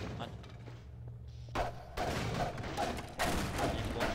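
Grenades go off in the video game Half-Life 2, heavy muffled booms and bursts of in-game gunfire layered with someone talking over the action.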